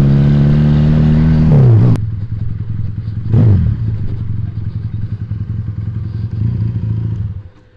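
Regal Raptor Cruiser 350cc motorcycle engine, loud and close. The pitch drops as it revs down, a sharp thump sounds near two seconds, then a brief rev, and a steady idle rumble carries on until it fades at the end.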